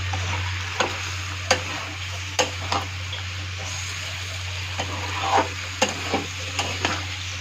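Boiled eggs stirred into fried food in a pan, giving a steady soft sizzle with a low hum beneath and about a dozen sharp scraping clicks of the spoon against the pan, spaced irregularly.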